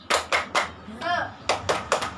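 A classroom teacher leads the tepuk semangat rhythmic clapping chant with first-grade pupils: crisp groups of sharp claps in a set pattern, broken by a short chanted word, near and clear.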